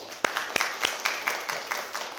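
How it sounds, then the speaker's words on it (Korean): A small church congregation gives a short round of welcoming applause for two newcomers, with sparse, separate hand claps spaced across the moment rather than a dense ovation. "일단 박수 한번"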